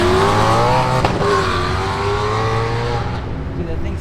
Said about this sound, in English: Yeah, that's that V10. Them M5s fucking go crazy.